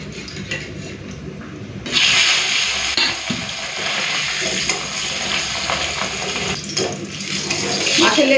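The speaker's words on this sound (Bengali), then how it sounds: "শেষে লেজটা ভেজে নেব।" The tail of a katla fish fries in hot oil, a loud, steady sizzle that swells after a quieter opening and keeps crackling close by to the end.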